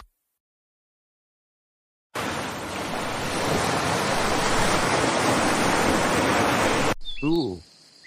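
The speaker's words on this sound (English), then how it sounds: "I see a beautiful waterfall up ahead." Steady rushing roar of a waterfall along a hiking trail, loud and continuous for several seconds before cutting off, followed by a brief voice.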